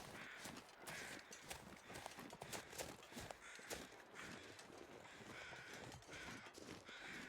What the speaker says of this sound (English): Noisy crows.